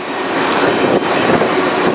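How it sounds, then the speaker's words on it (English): A freight train rolling on the rails in Utah, heading toward Salt Lake or Ogden, heard from aboard as a loud, steady roar of wheels and cars with a continuous rumbling clatter throughout. "So I think the train's coming up to the split where we're either going to go to Salt Lake or Ogden."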